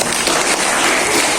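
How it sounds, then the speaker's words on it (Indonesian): Brief, dense applause from a room of DFT Training for Trainer participants, a loud, continuous wash of many hands clapping together. "Tepuk tangan buat kita semua."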